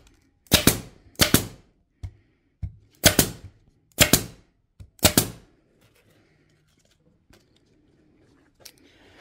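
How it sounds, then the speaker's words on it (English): A staple gun is fired into a wooden bee frame feeder, giving six sharp, loud, close snaps spaced about a second apart, followed by quieter handling clicks and one last faint snap. "So then we're just going to staple this side."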